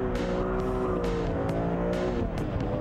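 A 343 hp rear-wheel-drive BMW Z4 M slides and accelerates, its engine loud and close with rising and falling revs through quick gear changes, sharp tire noise in the mix and no talk over it.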